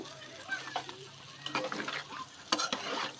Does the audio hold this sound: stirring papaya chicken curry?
yes